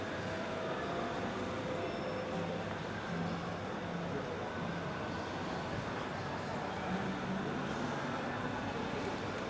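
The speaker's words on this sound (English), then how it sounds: "Tram." A tram rolls past on a street in the Cameron Highlands, Malaysia, a steady, fairly loud rumble and hiss of wheels and motor that holds constant for the whole stretch.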